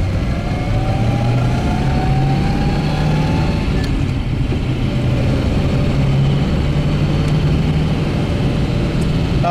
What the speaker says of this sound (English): I'm gonna shift through all the gears and just drive the car normally.